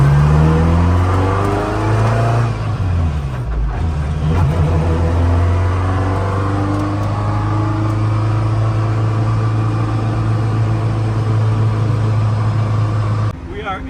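Gray Ferrari F40 heard from inside while driving, a loud, steady engine drone with low rumble and a brief gear change near four seconds, continuing evenly until the engine note drops at the end.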